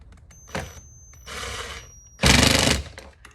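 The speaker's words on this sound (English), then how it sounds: "The drill has got to go way down in there to reach the head of the bolt." A power drill drives a bolt deep into a Waterborne surf adapter on a Boosted Mini X electric skateboard, with two short whirring bursts and then a louder, longer grinding run at the end.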